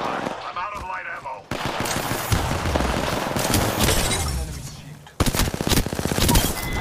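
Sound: gunfire in Apex Legends video game

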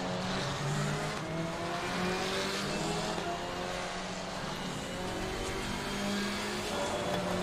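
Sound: KTM GT4 race car driving at Hungaroring, video game Assetto Corsa Competizione

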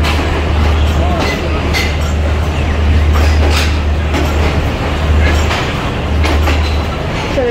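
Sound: Awam Express train arriving at Peshawar platform

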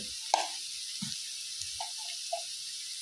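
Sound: jackfruit seeds frying lightly with spices in pan

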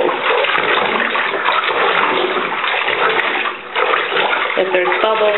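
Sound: plunger agitating cloth diapers in water

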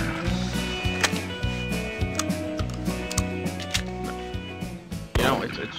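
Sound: 20 gauge shotgun shot in Cabela's Trophy Bucks video game

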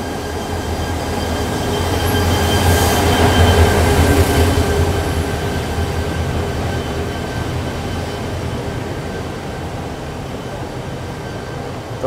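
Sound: overnight sleeper train boarding in jungle

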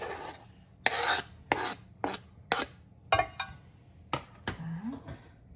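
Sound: knife cutting mushrooms

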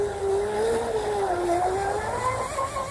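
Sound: RC tri-hull boat with 4000kv motor running

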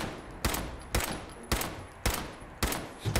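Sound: gunfire in Fallout 4 video game

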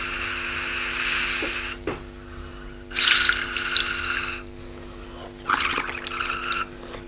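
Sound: blowing through a straw into lime water, bubbling

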